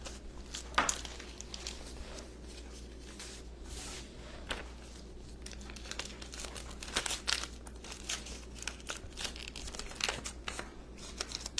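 Paper being handled and crinkled while making a lace doily wreath, continuous close rustling and crumpling with scattered sharper crackles throughout.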